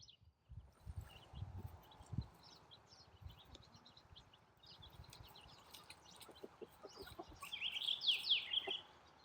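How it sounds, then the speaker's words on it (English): A broody mother hen gives soft, low motherly clucks in short irregular bursts, with brighter chirps from other birds rising near the end and light rustling throughout. "It's a certain kind of motherly cluck."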